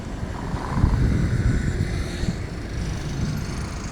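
A boat cruises through mangrove waterways toward the open sea on a sightseeing ride, giving a steady, close, broadband rumble of engine and water noise with no talking.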